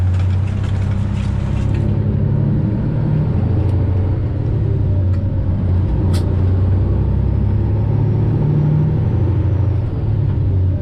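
A Freightliner Classic XL semi truck pulls onto gravel, its engine a loud, steady low rumble throughout with the road and tire noise constant in the cab and no voices.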